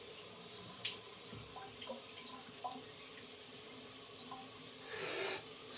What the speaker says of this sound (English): We'll wet the face, we'll wet the brush.